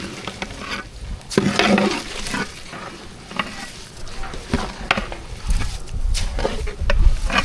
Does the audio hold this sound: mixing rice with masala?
yes